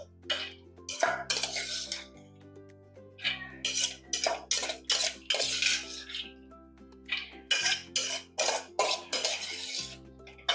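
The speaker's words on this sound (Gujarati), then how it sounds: "તો આપણે આ દાળને આ રીતે જગમાં લઈ લઈશું।" Dal for Surti locho being transferred into a jug with kitchen utensils, giving repeated clinks and scrapes of metal against the vessel in short bursts over a low steady hum, with no talking.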